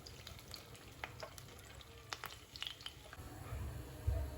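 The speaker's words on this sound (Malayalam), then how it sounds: "ഇതുപോലെ മുഴുവൻ പീസും ഫ്രൈ ചെയ്തെടുക്കുക." Chicken pieces fry in a pan for butter garlic chicken, a soft, steady sizzle with scattered pops and crackles, plus a few scraping stirs near the end.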